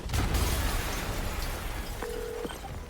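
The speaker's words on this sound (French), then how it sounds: "Yori, une explosion." A rumbling explosion booms in Marvel's Spider-Man Remastered, a loud low-heavy blast with a lingering noisy roar and a short tonal game effect near the end.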